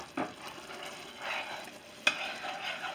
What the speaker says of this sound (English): You want me to stir that up this time